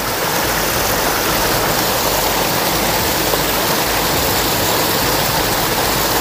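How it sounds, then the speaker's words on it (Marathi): Water is poured into a murrel fish-catching trap, making a loud, steady rushing and splashing that continues without a break, with no voices. "मी टांगला आहे असे साठेवरती घेतो आणि असे पाणी साठ्यामध्ये टाकतो."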